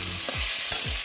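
Cumin stirred into food frying in oil in a pan: a steady sizzle with a few soft scraping strokes of a spoon, close by and without talk.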